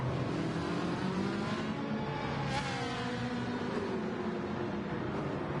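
Lexus GT3 race cars in a racing video game roar steadily through the final turn and onto the main straight, with a continuous loud engine drone, shifting pitch and a brief swell midway.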